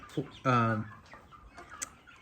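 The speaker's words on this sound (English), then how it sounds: "there's the chickens" A hen gives a loud, close cluck followed by a few fainter clucks and rustling.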